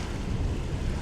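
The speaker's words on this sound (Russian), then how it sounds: "Короче говоря, очень сильный ветер." Very strong wind on a hot day in Saint Petersburg buffets the microphone, producing loud, continuous low rumbling wind noise with no other sounds.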